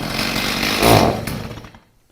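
A Stihl chainsaw with an EPA carburetor, recently run on TruFuel and struggling to run, sits warming up, a loud close engine buzz that surges briefly then cuts out abruptly.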